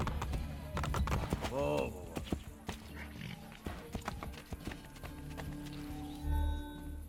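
Horse hooves clop in a quick, steady rhythm while riding in Assassin's Creed Brotherhood, with a brief spoken exclamation and other game sounds layered on top.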